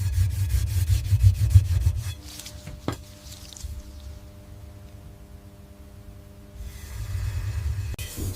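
A hand-forged katana blade is rubbed back and forth on a polishing stone in a Japanese sword workshop, giving low scraping strokes that pause midway after a sharp knock, then resume, close and without talk.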